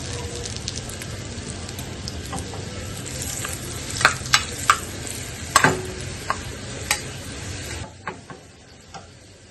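Dried red chillies sizzle steadily in hot oil while cooking a Punjabi palak paneer, with sharp crackles and pops scattered through, and a brief quieter stretch near the end.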